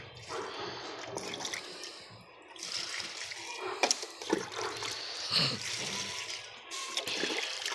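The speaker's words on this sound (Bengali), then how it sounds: "এখন জবা গাছে জল দেওয়া হবে" Water pours and splashes onto a scorched hibiscus plant in a rooftop garden, with intermittent gushes and sharp splatters at moderate loudness and quiet gaps between.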